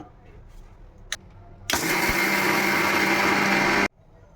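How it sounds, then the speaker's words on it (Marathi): A mixer grinder roars loudly as it pulverises roasted chana with cardamom into fine sattu powder, starting abruptly after a small click, running at full whine for about two seconds, then cutting off sharply; nearby and alone. "आणि आता आपण याला फिरवून घेऊया मिक्सरमधून"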